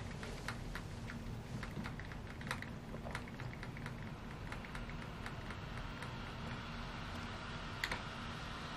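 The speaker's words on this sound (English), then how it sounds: "pressing escape on the external keyboard to get into the BIOS" Keys pressed on an external computer keyboard while booting an OrangePi Neo prototype handheld into its BIOS, quick faint clicks repeating irregularly over a steady hiss.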